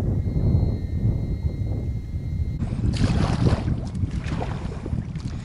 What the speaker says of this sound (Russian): Ветер весь поход нас преследует.